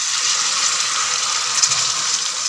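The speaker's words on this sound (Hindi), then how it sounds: "अब इसमें हम 2 से 3 टेबलस्पून के करीब पानी डालेंगे।" Water is poured into a pan of balti gosht (deghi-style meat curry) as it cooks, giving a steady broadband hissing sizzle that holds evenly for a couple of seconds, with no talk.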